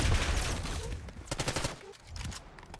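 Automatic AK rifle fire in a video game, bursts of shots standing out from a busy battle mix over quiet stretches between volleys.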